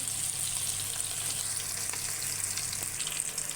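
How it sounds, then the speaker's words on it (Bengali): Pieces of rohu fish deep-frying crisp in hot oil in a pan, a steady close sizzle with faint stirring scrapes running throughout. "দেখুন নাড়িয়ে চাড়িয়ে কি দারুণভাবে মশমশা করে ভেজে ফেলছি রুই মাছগুলো"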